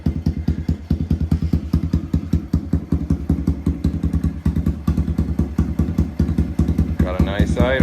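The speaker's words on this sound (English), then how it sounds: "Got a nice idle. Might need to turn that idle up a little bit" A Kawasaki KLX110R dirt bike fitted with a Big Gun EVO exhaust idles close by on its first fire-up, giving a loud, rapid, even thumping putter that stays steady throughout.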